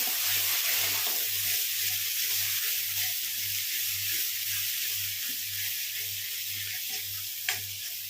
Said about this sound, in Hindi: इनको चलाते हुए भूनेंगे।